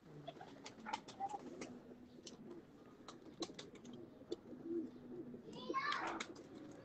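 Breeder pigeons coo steadily in low, rolling calls while a person talks nearby and scattered faint chirps and clicks come through.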